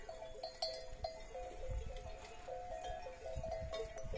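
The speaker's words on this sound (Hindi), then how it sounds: "पहले मैं आपको नजदीक से बकरी दिखा रहा हूँ" Faint bleats of a goat on a farm in Chhattisgarh, in an open outdoor setting beside crops and a hill, with light rustling and soft clinks of a goat bell in the background.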